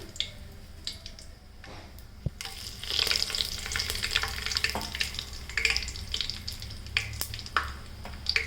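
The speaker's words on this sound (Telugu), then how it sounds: "ఆయిల్ వేడవగానే ఈ మసాలా దినుసులు అందులోకి వేద్దామండి" Whole spices and a bay leaf sizzling in hot oil for Andhra-style chicken dum biryani, with a steady close frying hiss and occasional stirring scrapes and no talk.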